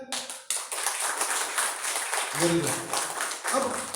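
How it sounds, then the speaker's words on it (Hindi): Audience at a political talk clapping, fairly quiet and scattered, with a spoken voice breaking in partway through. "जो लोग सहमत होना वो या तो तालियां बजाए"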